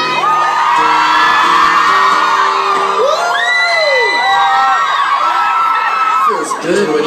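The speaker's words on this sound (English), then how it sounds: "Feels good when you yell. Feels good when you cheer." A concert crowd at an acoustic show cheers, yells and whoops loudly and continuously, with many overlapping high shouts close by.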